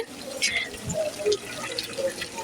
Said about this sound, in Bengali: তো এখন অল্প একটু ঝোল দিয়ে তারপরে